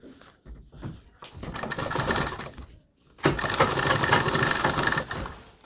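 A sewing machine stitches a blouse's back neck, running in two sustained bursts separated by a short pause, with faint handling noises at the start.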